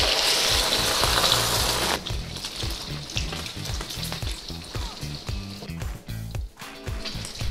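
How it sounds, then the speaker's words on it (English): Eggs hitting hot oil in an Asian wok, a loud, dense sizzle at first that settles into softer crackling with small pops and clicks. "we're gonna add our beautiful eggs"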